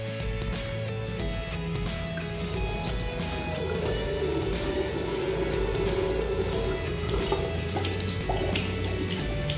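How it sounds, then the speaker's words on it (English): Water pours steadily from a tap for a phone water-resistance test on an Honor X9b (Magic 6 Lite), a continuous close splashing stream with no talk. "for this testing purpose we will use this tap here for the running water"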